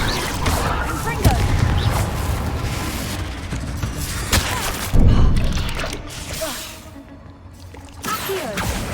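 Fiery Confringo spell blasts from Hogwarts Legacy strike in several sharp booming hits amid whooshes and combat clatter, with a voice calling out spell names during the fight.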